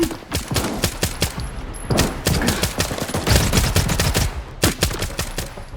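Rapid bursts of automatic gunfire from the Riman weapon in the video game S.T.A.L.K.E.R. 2, sharp, loud, close shots firing in quick sustained strings with brief pauses between volleys.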